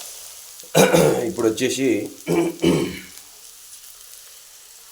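Chili powder mixture fries in a pan with a faint, steady sizzle running beneath a person speaking, the crackle barely rising above the talk.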